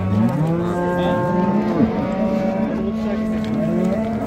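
A Simmental cow at a livestock market lets out a long, loud, drawn-out moo close by, its low tone wavering and holding for several seconds.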